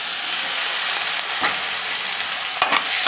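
Tomatoes go into sizzling onion, garlic, ginger and green chili in a pan, giving a dense steady hiss of frying with a few sharper crackles and stirring clatters toward the end.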